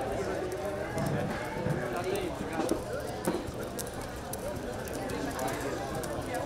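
A mare's hooves move over arena ground during a Gaúcha horse competition classification round, soft rhythmic thuds running under a continuous background of crowd and arena noise.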